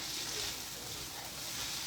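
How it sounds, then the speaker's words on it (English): Tomatoes and onions sautéing in oil in a pan, a soft, even hiss of sizzling held steady throughout, fairly quiet and with no voices. "And let these flavors meld and saute together."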